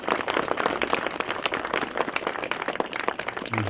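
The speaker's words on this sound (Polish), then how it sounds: "W tym miejscu bardzo proszę o duże brawa dla pana Jarosława." An audience at a Jewish culture festival event in Busko-Zdrój applauds, a brisk, dense burst of clapping at moderate distance that continues steadily throughout.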